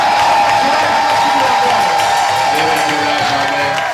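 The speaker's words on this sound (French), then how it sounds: "les acclamations, les célébrations, les cris de joie car tu es Dieu." A church congregation cheers, shouts and whoops for joy in a steady, loud crowd roar that fills the space without a break, with voices blending into the din.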